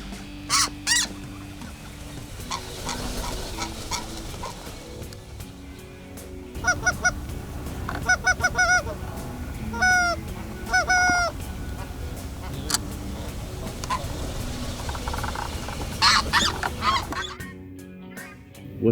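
Geese honk repeatedly during an early morning goose hunt, with scattered calls near and far over constant outdoor background noise and faint voices.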